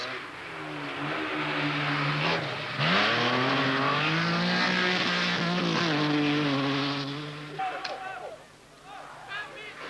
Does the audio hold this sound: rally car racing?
yes